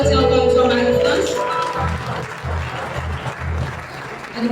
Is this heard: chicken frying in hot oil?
no